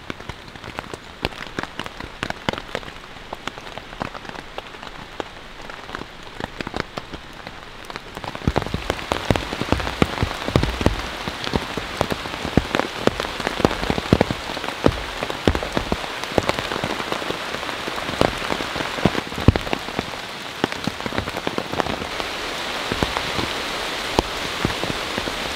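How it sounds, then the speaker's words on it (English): Steady rain pattering on a one-person LiteFighter military tent, light at first and then turning heavier and denser at about eight seconds, with a continuous close drumming of drops on the fabric and no voices. "I am going to keep this tent out all day and just let it rain on it."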